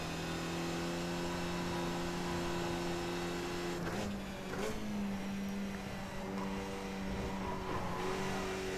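Race cars in the iRacing sim hold a steady droning engine note, with a couple of shifts and revving changes as other cars join on track, moderate level and continuous without talk.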